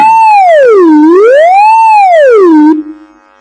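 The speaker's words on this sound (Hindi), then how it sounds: "Siren. ये सायरन है।" A loud electronic siren sound effect wails up and down in smooth, slow sweeps, then cuts off abruptly, leaving a brief faint buzz.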